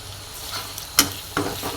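Chicken with turmeric and red chili powder fries in a pan, a steady close hiss broken by a couple of sharp stirring clacks in a short burst.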